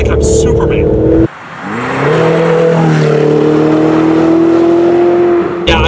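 Ferrari 488 Spider engine revving as heard from inside the cabin with a window down, a loud sustained rising drone with shifting harmonics after a brief pause, voices talking over the start.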